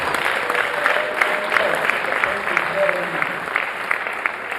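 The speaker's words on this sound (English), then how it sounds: "I want us to give him another round of applause." Audience applause at a college of medicine scientific conference plenary session, a steady round of many hands clapping at moderate loudness, with a faint voice heard underneath.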